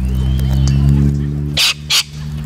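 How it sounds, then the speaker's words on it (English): Parrots give two loud, harsh squawks in close succession near the end, over a steady low droning hum that fills the background throughout. "My parrots are terrorizing some other people."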